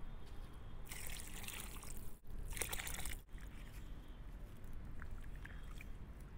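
Water pours into a cooking pot of rice for chickpea pulao in two loud gushing bursts, separated by brief pauses, followed by quieter trickling and sloshing with no voices.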